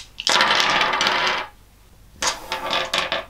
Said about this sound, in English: I'll take all the dice and roll them again.